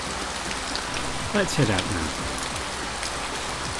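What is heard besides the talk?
rain falling, ambient sound in an audio story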